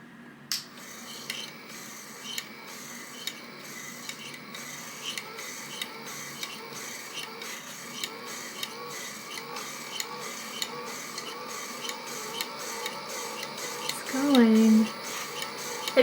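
A Caydo electric yarn winder runs with a steady mechanical whir and rhythmic ticking and clicking, a voice briefly heard near the end.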